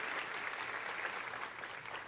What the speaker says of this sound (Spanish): Yo quiero que usted le dé un aplauso a todos los que nos están viendo en línea